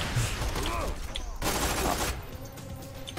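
Gunfire in the video game Borderlands 2, a busy barrage of overlapping shots and bursts that runs throughout, with someone talking over the shooting.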